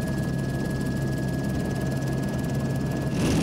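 Helicopter flying over the Po river during the Pavia-Venezia powerboat raid, a steady dense rotor and engine roar with a faint tonal whine, continuous and fairly loud, swelling slightly near the end.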